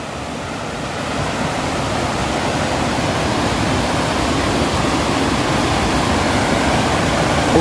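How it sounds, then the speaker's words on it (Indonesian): A strong, swollen river current after heavy rain rushes past a simple villa beside the river amid plantations, a loud, dense and continuous roar that swells slightly after the first second and never pauses. "untuk arusnya sendiri Masya Allah sangat begitu deras sahabat"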